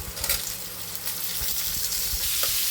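Potatoes and raw tomatoes fry in a pan for aloo dum, giving a steady close sizzle with bursts of crackle and faint stirring scrapes, no voices.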